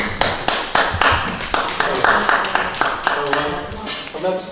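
A burst of hand clapping from a small group at a town planning and zoning meeting, brisk irregular claps that thin out toward the end as a voice begins to speak.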